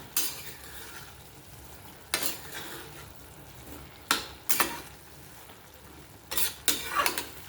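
Salted tomato bharit being stir-fried in a pan, quiet background sizzle broken by a few short bursts of spatula scraping and clatter against the pan.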